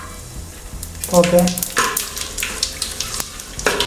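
Whole spices such as cinnamon, cloves and cardamom drop into hot oil in a pan for chicken biryani, setting off a close sizzle that flares in bursts as more go in, with a brief word spoken over it.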